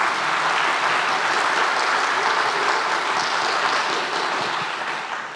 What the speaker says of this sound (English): Let's first go with the round of applause for Darek Kocienski